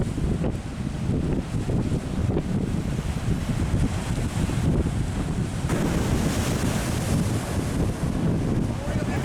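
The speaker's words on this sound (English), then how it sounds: "it's a lot of fun to go and stand on the breakwater where the waves were splashing up pretty impressively today" Waves surge and splash against a seaside breakwater at Kåseberga on Sweden's south coast, a loud continuous roar of surf with wind buffeting the microphone throughout.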